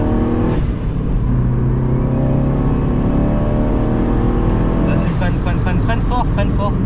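A car is driven hard around a race track, its engine roaring loud and close throughout with pitch sweeping as it revs, and a burst of clattering noise near the end.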